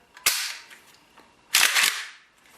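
A Yugo M70AB2 rifle is dry-fired with an empty magazine and chamber, making two sharp, loud metallic clacks about 1.3 seconds apart, each with a short rattling tail.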